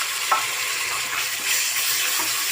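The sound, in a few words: adding tomatoes to a frying pan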